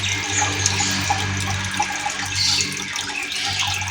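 Water pumped by a motor pours into an arowana pond, a steady splashing trickle close by over a low constant motor hum.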